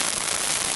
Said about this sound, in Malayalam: ഇത് നമുക്ക് ഫയർ ക്രാക്കർ അടിച്ചു കൊടുക്കാം.